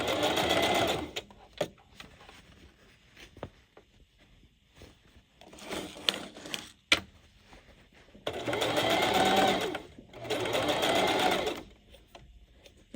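A home sewing machine stitches a quick Christmas gift in two pairs of sustained whirring runs, each a second or two long, separated by quieter gaps with small handling clicks and no talk.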